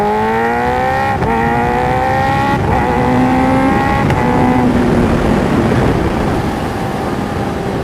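Kawasaki H2R supercharged street-legal motorcycle downshifting without the clutch, its engine revving in a high, stepped whine that drops with each autoblip gear change, loud and close with no talk.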